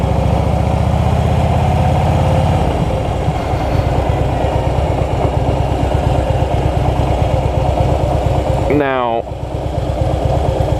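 A motorcycle engine idles and then chugs in a low, rhythmic, lumpy pulse as the clutch engages and gas is slowly added, while a rider talks over the steady engine throughout.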